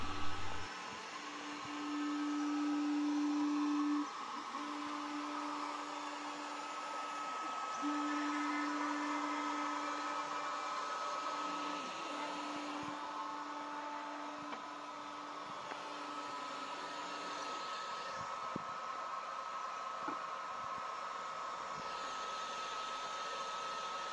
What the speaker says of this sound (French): La machine fait une mise au point automatique pour régler la hauteur de la tête laser.